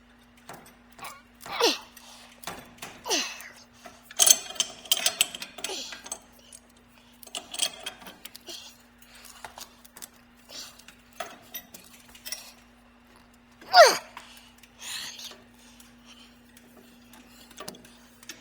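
Pipe wrench loosening a tight plumbing trap, giving sporadic close metallic clanks, scrapes and ratcheting taps in irregular bursts against a faint steady hum.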